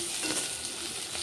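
Chopped onion sizzles in hot mustard oil with dried chillies, a steady close frying hiss broken by a few soft stirring scrapes, with no talk.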